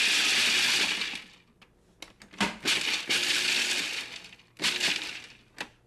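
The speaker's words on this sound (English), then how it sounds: "we're going to start by chopping them in the bowl of the food processor fitted with a metal chopping disc" A Cuisinart 7-cup Premier Series food processor fitted with a metal chopping disc pulses peanuts, giving loud, bursty whirring and rattling in several short pulses separated by brief pauses.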